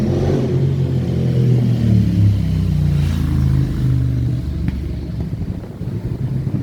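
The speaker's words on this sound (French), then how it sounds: "Belle moto qui vient de passer" A motorcycle passes on a street in the early afternoon, its engine rumbling loud and close for several seconds, then easing off as it moves away.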